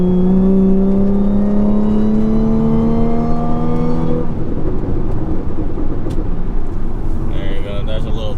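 Tuned car with a Stage 2 Plus package from 034 Motorsports, engine revving up in a rising drone under acceleration before shifting and settling into a rougher, lower rumble, loud and close.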